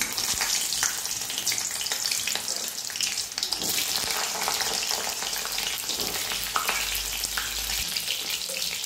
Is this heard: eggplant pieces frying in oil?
yes